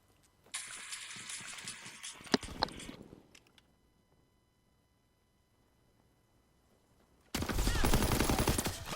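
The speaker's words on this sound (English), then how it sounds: "Another bit of burst firing." Bursts of automatic gunfire in a World War II video game: a dense rattling volley at the start, a stretch of near silence, then another loud sustained burst at the end, with no talk.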